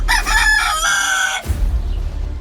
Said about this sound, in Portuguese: Ao ouvir o galo cantar pela 2ª vez